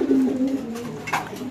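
A male white beauty pigeon coos close by, a low, steady throaty rumble lasting over a second with a slight swell and fade, heard alone without talk.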